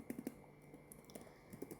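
Quiet typing on a computer keyboard while entering an email address, a light irregular patter of key clicks in short bursts, close and soft with no talking.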